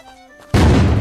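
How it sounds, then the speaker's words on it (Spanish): Gunfire in the video game Unturned on a PvP server: after a quiet moment with faint tones, a sudden loud, booming burst of shooting that stays dense and close to the end. "se escuchan tiros"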